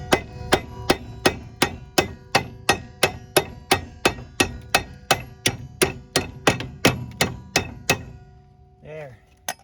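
A hammer strikes a strut bolt on a Ford Escort rear suspension in a steady fast series of about twenty sharp metallic taps, close and loud, ending with a brief murmured voice.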